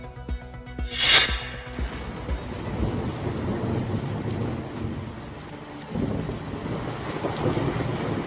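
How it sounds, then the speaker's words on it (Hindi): Heavy night rain pours down steadily in Tokyo with a dense hiss, while a low rumble of thunder rolls underneath and a brief sharp burst stands out near the start. "जहां रात के अंधेरे में खतरनाक बारिश हुई"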